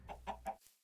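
Chickens cluck three times in quick succession in the video game Minecraft, short soft clucks heard alone and fairly quiet.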